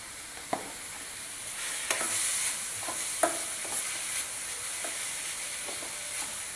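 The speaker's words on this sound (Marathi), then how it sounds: "आपण थोडंसं फ्राय करून घेऊया" Momo filling vegetables, salted and mixed, stir-fried in a pan, giving a continuous crackling sizzle broken by several sharp spatula scrapes and taps at close range.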